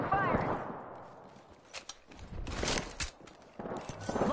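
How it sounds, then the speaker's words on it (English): Bursts of gunfire from an Apex Legends match, with repeated shots clustered in short volleys at moderate distance, mixed with game sounds and voice lines. "Taking fire!"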